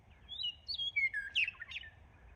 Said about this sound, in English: There's a meadowlark up there in that tree somewhere, and I cannot see it.